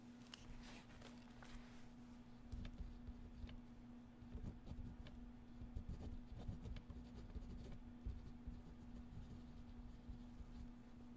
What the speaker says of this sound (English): So we're going to have to write this down.